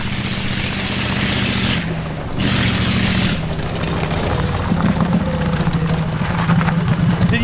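A Volkswagen Beetle fitted with a largely unmodified zero-turn lawn mower V-twin engine drives past, its steady, loud engine drone and low hum running throughout with a brief dip partway through.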